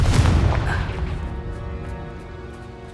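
A fiery blast spell explodes in the Hogwarts Legacy video game, a loud booming burst at the start that decays into a long rumbling, crackling tail.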